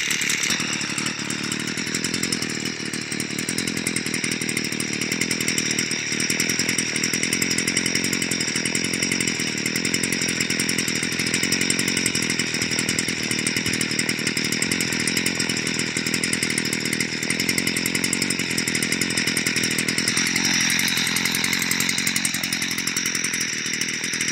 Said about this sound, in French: Je vais la laisser tourner un peu au ralenti, voir si elle tient le ralenti.